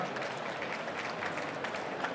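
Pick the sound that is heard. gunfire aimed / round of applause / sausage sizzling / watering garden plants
round of applause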